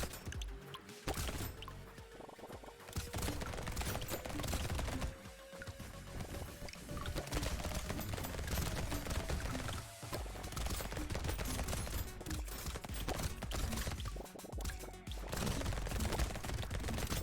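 Turrets in Brotato shoot continuously at swarming enemies, a steady rapid fusillade of small gunfire pops that runs unbroken for the whole stretch at a moderate level.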